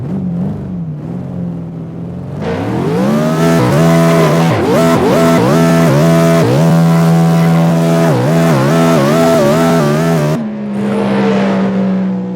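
A 1967 Chevelle SS engine revs hard through second gear, a loud, close growl rising and wavering in pitch over several seconds before cutting back to a lower, steady drone.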